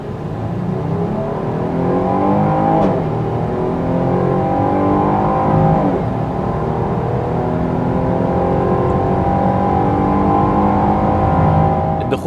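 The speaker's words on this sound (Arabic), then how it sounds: "خلونا نعمل تجربه تسارع ونشوف العربيه دي هتوصل ل 100 في قد ايه" A Jeep Grand Cherokee accelerating hard from standstill toward 100 km/h, its engine loud and close as rising tones climb and drop with each gear change over about twelve seconds.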